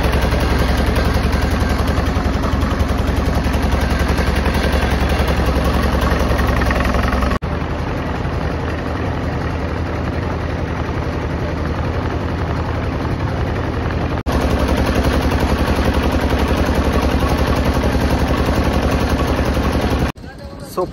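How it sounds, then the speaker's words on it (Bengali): The loud, steady chugging of a bhotbhoti motor boat engine crossing a river on the way to Mousuni Island, a close, constant low rumble that runs the whole time with brief shifts in tone. "তো এই ভটভটি আমাদেরকে নদী পার করে দিল"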